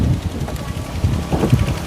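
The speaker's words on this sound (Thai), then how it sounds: "ลมเนาะ" Wind gusting outdoors while a cloth sheet is being lowered from a drying tray, a steady low rushing buffet with uneven swells throughout, no voices.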